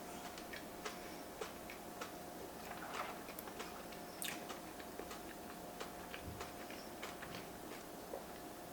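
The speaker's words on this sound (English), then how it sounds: "You hear the crunch of the sugar topping." Sugar-topped king cake with cream cheese icing being eaten close to the mic, with quiet, crisp crunching and chewing clicks spaced irregularly over a low, steady background.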